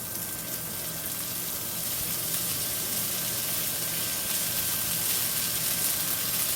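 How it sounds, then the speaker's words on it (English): Cooked pasta hits a hot skillet for a shrimp stir fry, giving off a steady, close sizzling hiss that builds slightly and holds, with a faint hum underneath. "And now we're putting our pasta in the same skillet."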